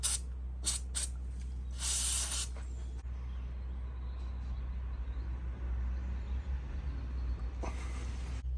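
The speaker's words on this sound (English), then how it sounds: "we'll spray a bit more penetrating oil" An aerosol can of penetrating oil hisses onto a Champion C5 spark plug in a few short sprays followed by a longer burst, then a final spray, over a low engine-like rumble.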